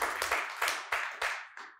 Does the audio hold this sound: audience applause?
yes